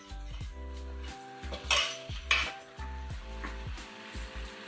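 Potatoes being mashed in a pan with a metal utensil while cooking an aloo broccoli masala gravy: repeated clinks and scrapes against the pan in an uneven rhythm, close and fairly clear, with no talking.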